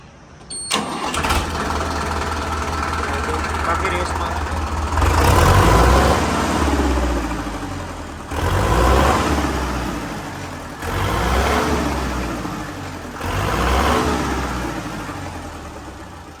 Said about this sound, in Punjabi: ਬਾਕੀ ਤੁਹਾਨੂੰ ਇਸ ਟਰੈਕਟਰ ਦੀ ਸਾਊਂਡ ਚੈੱਕ ਕਰਾ ਦਿੰਨੇ ਆ ਆਪਾਂ ਸਟਾਰਟ ਕਰਕੇ